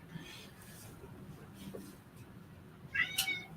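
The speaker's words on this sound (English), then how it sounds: "by his litter box meowing at me" A cat meows from beside its litter box in a bathroom, a brief moderately loud call near the end after a stretch of quiet background noise.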